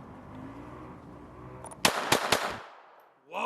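Three sharp, close gunshots in quick succession from a Glock 44 .22 LR pistol fired outdoors, standing out loudly over a low rumbling background, then fading to quiet before a voice starts.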